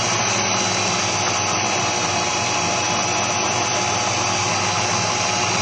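A blender motor whirs loudly and continuously at high speed, a steady droning buzz with no pauses or voices.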